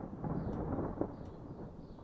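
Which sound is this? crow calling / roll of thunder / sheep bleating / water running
roll of thunder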